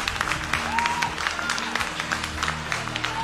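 A church congregation applauds during a worship service, brief scattered clapping mixed with crowd noise and faint sustained tones in the background.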